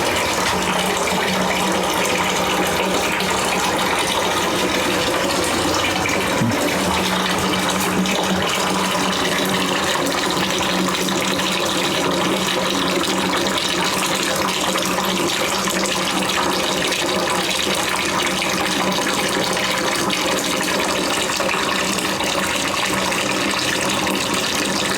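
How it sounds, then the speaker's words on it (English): Liquid draining steadily from bourbon mash grains during sparging, a continuous trickling gush with no break. "So let's let that sparge out for a little bit."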